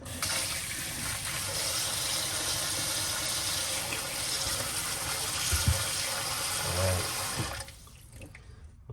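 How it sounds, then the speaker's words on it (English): Cold tap water runs steadily over raw chicken in a sink for about seven seconds, a constant rushing hiss with a few handling knocks before the flow cuts off. "And you're gonna use cold water to wash it"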